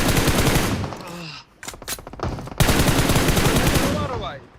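Rapid gunfire bursts in PUBG Mobile, close and loud, crackling in fast repeated shots with a short break before another sustained volley, over in-game sounds.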